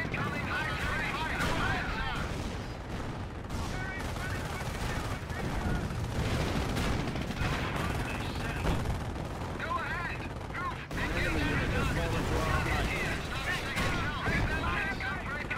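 Company of Heroes battle with continuous heavy gunfire, machine-gun bursts and booming artillery hits, dense and loud throughout with no pause.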